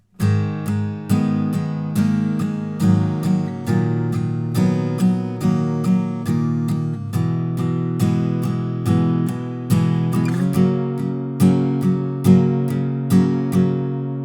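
Acoustic guitar strumming a steady chord progression, bright and close, with regular rhythmic strokes and occasional chord changes, no voices.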